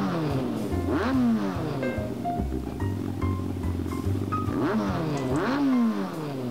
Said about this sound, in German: Was ist das für ein Geräusch? Ein Motor!